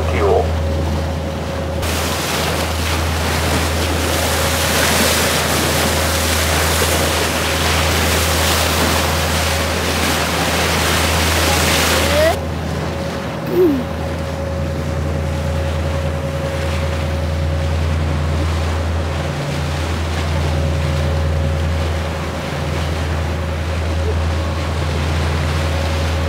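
A Poole to Swanage ferry ride brings a loud, steady low engine drone with wind and rushing water, heavy for the first half and then calmer, with a few brief knocks.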